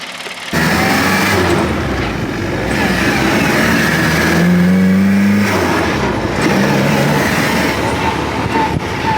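A 1979 Reliant Robin-style three-wheeler car engine idles then revs up and accelerates, its drone rising in pitch, loud and close from inside the cabin.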